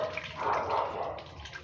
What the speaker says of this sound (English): So first, we rinse this. Rinsing all the dirt.